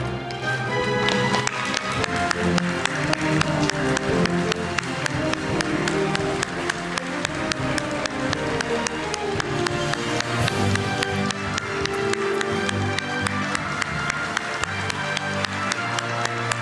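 An audience claps to welcome the South Korean president, President Moon, at the press event marking his 100th day in office, giving dense, sustained applause at an even level throughout.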